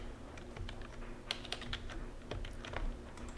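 Someone types a ping command on a computer keyboard, a quiet, irregular run of close key clicks with a few sharper taps and no talking.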